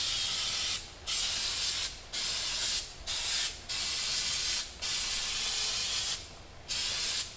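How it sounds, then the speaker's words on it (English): Brake parts cleaner sprays in seven loud, close hissing bursts of about a second each onto the rear brake backing plate of a 2002 Ford Windstar, with short pauses between bursts. "I'm just using some regular brake parts cleaner."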